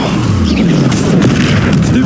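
A Bombarda spell detonates in Hogwarts Legacy with a deep, continuous booming rumble that stays loud for the whole stretch, while a voice talks over it.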